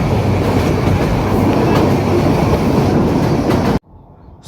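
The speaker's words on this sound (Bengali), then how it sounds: "স্টেশনে ট্রেনটি পৌঁছে গেল" A loud, steady rumble of a train rolling along the tracks as it arrives at Dhaka's Airport railway station, continuous and close, cutting off abruptly near the end.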